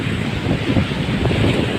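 Sea waves wash steadily against the shore at Brooks, Palawan, a continuous low surf rumble mixed with wind buffeting the microphone, close and fairly loud throughout.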